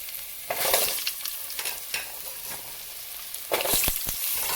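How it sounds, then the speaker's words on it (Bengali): Potato pieces fry in hot oil left over from frying fish: a steady loud sizzle with scraping stirs and sharp bursts of spitting, and no talking. "এখন আমি এই তেলের ভিতরে আলুগুলো দিয়ে দেবো আলুটা ভেজে নেব আমি"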